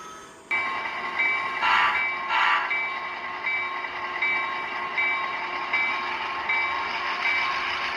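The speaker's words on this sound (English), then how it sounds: "Now the switcher is pushing these 3 cars onto track 2 and connecting to the rest of the train" A model railroad switcher locomotive pushes three freight cars along a track in a yard, giving a steady close motor whine and tonal hum with rolling clatter and a sudden start, and no voices.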